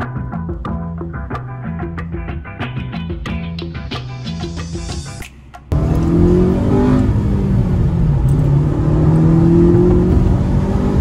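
A 2009 Honda Civic Si (FG2) revs through rising engine tones, then pulls away with a loud, steady drivetrain roar and tire noise on a muddy surface, close up with no talking.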